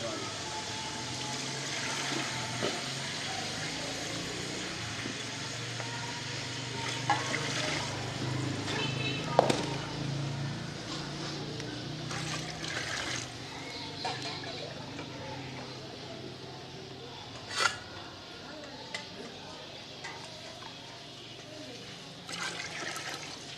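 Water being poured into a cooking pot of rice for potato pulao (aloo tahari), five mugs over three mugs of rice, a steady splashing pour running throughout with a few louder splashes.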